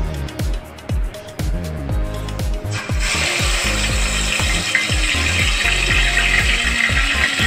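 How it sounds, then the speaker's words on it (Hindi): Spice-marinated meat is dropped into hot oil in a cooking pot to fry. A few dull thumps give way to a loud, steady sizzle that continues to the end. "अब इसको हम डाल के 15 मिनट के लिए भूनेंगे"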